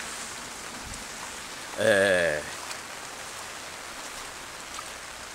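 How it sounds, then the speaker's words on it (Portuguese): Steady rain falls in Colatina on a November day, a continuous broadband hiss of drops at even, moderate level throughout, while someone speaks briefly over it partway through. "chuva no dia de finados, dia 2 de novembro de 2019"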